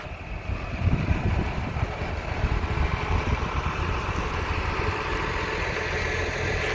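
A tractor hitched to a new 6-metre Remsyntez Sich seeder idles steadily nearby, a constant low engine rumble with a faint whine above it and no speech.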